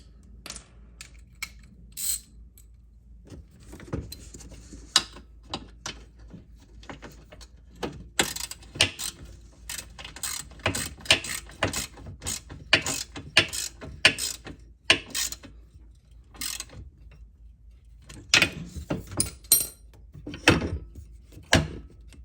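A ratchet tightens a polyurethane bushing bolt on a Club Car Precedent golf cart, giving close, loud bursts of rapid clicking that stop and start again repeatedly, with no talking.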